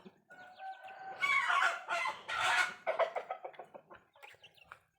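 Chickens clucking and squawking up close in a rural kitchen setting, a burst of loud overlapping calls followed by a run of shorter, fading clucks.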